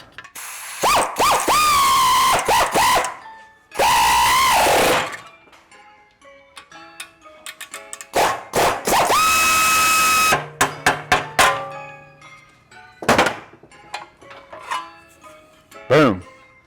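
A hand punch and threaded tool work through a metal panel, cutting speed holes in sharp bursts of squealing, ratcheting metal noise separated by pauses, with clicks and clanks in between and no talking.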